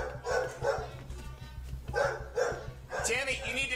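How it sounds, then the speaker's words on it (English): A dog barks repeatedly in short bursts during a tense standoff with police, loud and near, with voices talking over and between the barks. "We can't hear you over the dog."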